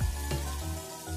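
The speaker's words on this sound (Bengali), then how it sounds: "সমস্ত সবজিগুলোকে একটু নাড়াচাড়া করে নেব।" Vegetables for a Bengali fish curry sizzle loudly in a hot pan while being stirred, a steady close frying hiss with a scrape of the stirring partway through.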